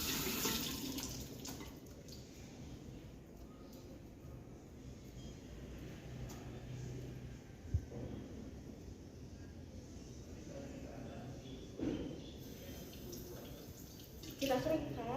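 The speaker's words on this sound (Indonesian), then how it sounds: "Baik, kita akan cuci tangan." Hands are scrubbed with antiseptic under a running tap in a clinical skills lab, a soft continuous water flow with faint rubbing and small clunks, fairly quiet throughout.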